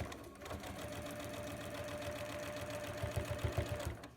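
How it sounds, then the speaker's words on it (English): A sewing machine stitching in the ditch along a quilt seam hums with a fast, steady mechanical chatter, close and even throughout, growing slightly more pronounced near the end before stopping. "I'm just going to sew right stitch in the ditch all the way down"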